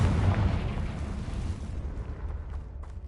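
A Confringo spell explodes in Hogwarts Legacy, a loud, deep booming blast with a heavy low rumble that slowly fades away over a few seconds.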